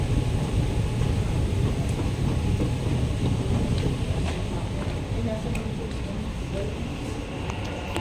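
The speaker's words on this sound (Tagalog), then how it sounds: "Ayan na, ayan na ang train." A train pulls into a station at night, with a loud, steady low rumble and rolling clatter that stays close throughout and slowly fades slightly.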